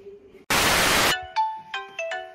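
A mobile phone ringtone sounds in a home kitchen, a few clear electronic melodic tones following a sudden burst of static hiss, close and moderately loud.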